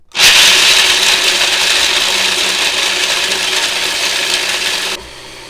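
A food processor grinds nuts into fine flour for marzipan bars, a loud, close, continuous whirring roar that starts abruptly and runs steadily for about five seconds before cutting off.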